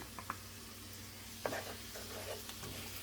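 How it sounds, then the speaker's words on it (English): Garlic sizzles in a pan while creamed spinach is being made, giving a faint, steady frying hiss broken by a few soft stirring clicks and scrapes. "Now let's add in that garlic."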